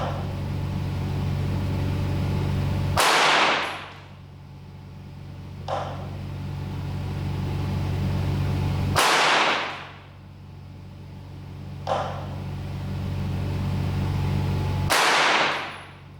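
A rifle firing budget bulk ammunition cracks three times at evenly spaced intervals of about six seconds. Each loud, sharp report decays quickly and is followed by a fainter click, with a low steady hum underneath.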